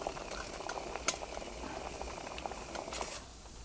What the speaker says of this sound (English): my water's boiling